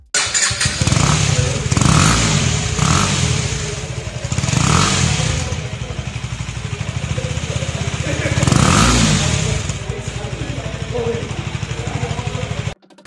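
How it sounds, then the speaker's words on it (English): A 2017 KTM Duke 250 motorcycle engine revving repeatedly, loud and close, with throaty exhaust bursts rising and falling over a steady idle rumble. "Here is the exhaust sound for the all new KTM 250."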